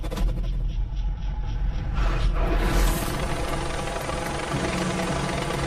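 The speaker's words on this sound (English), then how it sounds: "This is my ride. Helicopter coming in." A helicopter approaches a remote spot in northern Thailand's Golden Triangle, its loud, steady rotor and engine rumble swelling and shifting as it comes in close.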